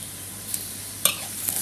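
Braised pork ribs and lemongrass stir-fried in a pan, a low steady sizzle with a few brief spatula scrapes and clacks against the pan, close by.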